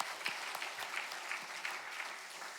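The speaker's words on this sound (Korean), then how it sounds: "우리 모든 영광 하나님께 박수로 올려드리겠습니다." Congregation applauding at a Korean church New Year special dawn revival service, a steady wash of many hands clapping at moderate distance with no voices over it.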